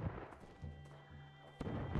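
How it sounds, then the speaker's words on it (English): Cannon fire in the video game Totally Accurate Battle Simulator: a couple of heavy booming blasts, one at the start and one near the end, with a steady tone and game noise in between. "if my cannons could actually aim half as good as their cannons"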